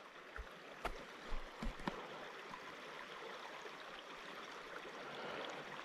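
A small trout stream flows through a bend, a steady, soft broadband wash of running water with a few faint low knocks and splashes near the start.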